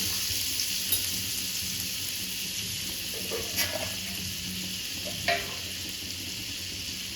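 Butter and a little white oil sizzling steadily in a pan, a continuous close crackle with a few brief louder pops and spatters.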